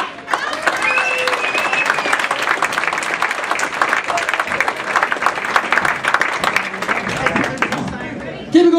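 Audience applause and cheers welcome a comedian to the stage, steady clapping with scattered whoops and crowd chatter, swelling then tapering as a voice cuts in at the end.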